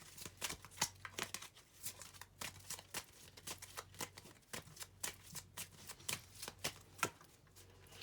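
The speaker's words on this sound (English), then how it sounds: "we'll just get two more cards from the Kipper deck" A Kipper fortune-telling deck of cards is shuffled by hand in a quiet room, a steady series of soft riffling flicks and taps, close and faint, with no talking.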